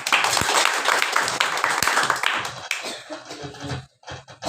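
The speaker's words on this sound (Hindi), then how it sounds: "और पवित्र आत्मा के लिए मसीह से ताली बजाएंगे।" A church congregation claps hands together in praise, a dense, continuous patter of many hands with a few sharper claps, fairly close and loud, tapering slightly near the end.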